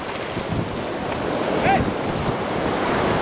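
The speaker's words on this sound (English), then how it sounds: "Little Bomani, first time at Bojo Beach." Ocean waves wash ashore and wind buffets the microphone at Bojo Beach in Ghana, a steady loud roar of surf and gusts with a faint brief voice in the background.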